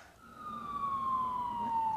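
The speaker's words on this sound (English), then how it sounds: "Are those police sirens?" A steady police siren tone slowly sliding downward in pitch, sustained and moderately loud over a low background hum.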